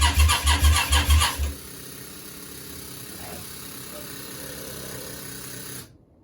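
Yamaha Virago 535 motorcycle engine cranking over with its carburetor backfiring through the intake, a rapid rhythmic churning for about a second and a half, then a steady hiss until an abrupt cutoff.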